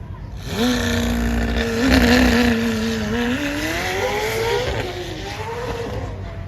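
A McLaren Senna supercar launches down a runway at Supercar Fest. Its engine gives a loud, close roar that rises in pitch as the car gathers speed, then eases off into a steady drone.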